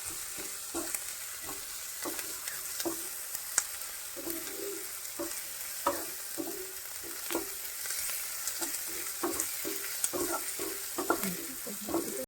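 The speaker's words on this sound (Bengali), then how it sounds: "আমি আদা কুচিটাও দিয়ে দেব দিয়ে এটা সুন্দর করে এখন একটু ভাজা ভাজা করে নেব লাল লাল করে" Chopped ginger fries in a pan with a soft, continuous sizzle and frequent light scraping taps of a stirring spoon, fairly quiet and close.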